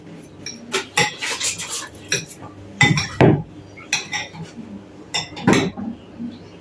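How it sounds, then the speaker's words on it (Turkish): A spoon stirs a stew with tomato paste in a pot, scraping and clinking against the sides in irregular bursts, close and fairly loud, with no one talking. "Güzelce karıştırıyoruz."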